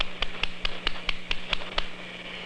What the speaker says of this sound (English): suppose I clap my hands next to it